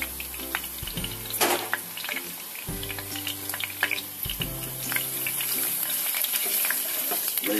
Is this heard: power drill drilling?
no